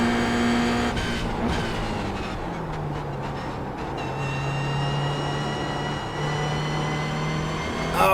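Race car engine in the wrong gear in a sim racing game, a loud sustained engine drone with a low, bogged pitch and shifting tones and gear changes, no talk.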